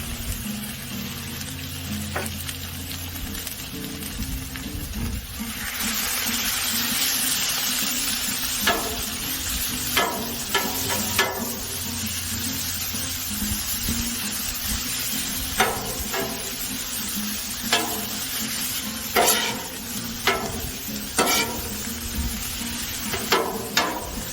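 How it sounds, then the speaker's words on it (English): Lean sirloin tip frying on a Blackstone griddle, a steady crackling sizzle broken by repeated sharp metal spatula scrapes and taps against the flat top, close and moderately loud with no talking. "This sirloin tip is really lean, so Get that cooked up."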